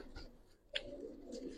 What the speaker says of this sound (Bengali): ভাই একটা ময়না জাতের কবুতর, একবারে সম্পূর্ণ পুরান, একবারে পুরান জাতের কবুতর।